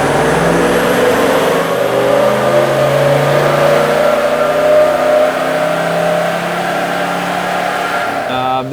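A Toyota 79 Series Landcruiser V8 diesel fitted with a DPF revs loudly and close, a deep droning engine note with rising and falling pitch sweeps, holding steady before easing off at the end.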